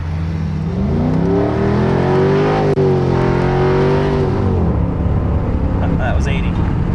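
A Ford Mustang GT accelerates hard on a nitrous hit, its loud engine note climbing steadily then easing off as the car settles, heard close up from inside the car with voices over it.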